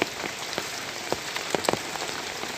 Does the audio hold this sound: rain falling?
yes